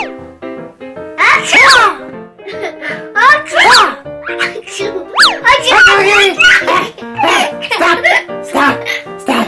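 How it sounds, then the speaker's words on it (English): A toddler sneezes again and again in quick bursts, mixed with playful squeals and childish vocal sounds, loud and close. "Too much sneezing"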